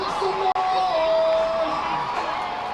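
A crowd at a minor-league baseball game cheering and whooping near the final strike, a broad, sustained roar with scattered shouts and an announcer's voice over it.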